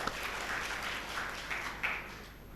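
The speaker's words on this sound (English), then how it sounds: "Can we clap?" An audience at a talk on meditation and peace of mind claps together in a soft, sustained patter, fairly faint and distant, with a few slightly louder swells before easing off.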